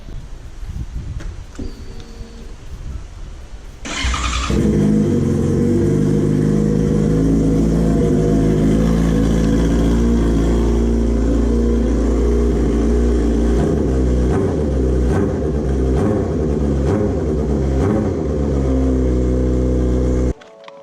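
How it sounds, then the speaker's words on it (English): A straight-piped Yamaha R6 motorcycle engine fires up after a few seconds of quiet, then idles loudly with several short revs rising and falling before cutting off. "fire the bike up, give it a couple little revs"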